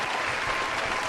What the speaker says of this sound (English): Round of applause for you, buddy.